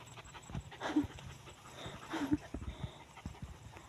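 A dog pants quickly and rhythmically after exercise, close by, with a few soft knocks and thumps in the background.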